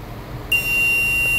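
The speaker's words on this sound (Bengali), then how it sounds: "10 সেকেন্ড পর অ্যালার্ম দিতেছে।" An electric alarm buzzer on an industrial timer circuit switches on suddenly about a third of the way in, then holds one steady, piercing high-pitched tone to the end, with no talk.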